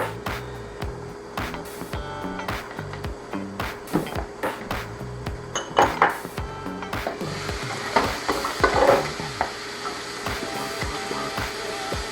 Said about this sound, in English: we'll let that saute for just a few minutes